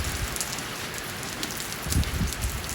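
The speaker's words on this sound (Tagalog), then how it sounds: "biglang umulan" Sudden rain falling steadily on surfaces in Japan, a dense, loud hiss of drops with a few heavier spatters and no voices.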